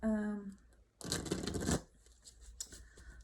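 Oracle cards being shuffled, a brisk riffling burst lasting under a second, then softer card handling and rustling, close and quiet, with a voice speaking briefly before.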